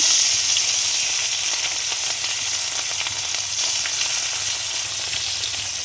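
Fish hits hot, smoking oil and fries with a loud, even, close sizzling hiss that holds steady without pause and without any voices.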